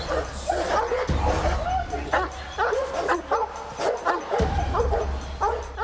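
A guard dog at attack training barks and yelps repeatedly in loud, excited bursts, with whimpering yips between, up close, while people talk in the background.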